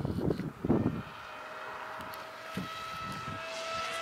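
A Hawk Sky remote-control model airplane flies on a windy, cold day, its faint, distant engine a steady high whine that follows a few seconds of wind buffeting.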